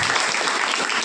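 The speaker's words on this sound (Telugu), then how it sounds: "చప్పట్లు కొట్టి" Audience applause during a Telugu Christian prayer meeting, with many hands clapping in a dense, steady wash for about a second and no gaps.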